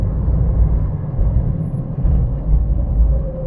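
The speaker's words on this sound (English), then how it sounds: "it makes these amazing noises, sort of raspy exhaust note" A 1981 Vauxhall Chevette HSR with a very big exhaust gives a continuous low, rumbling engine and exhaust note at moderate loudness, with no voices over it.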